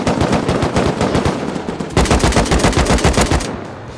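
Sustained bursts of AK assault rifle fire in the survival game Rust, loud and close, rapid automatic shots in two long strings before trailing off, no talk.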